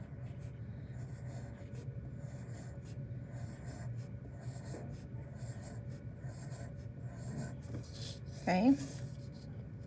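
A pencil draws oval shapes on paper with steady, soft scratching strokes. One brief spoken word cuts in near the end.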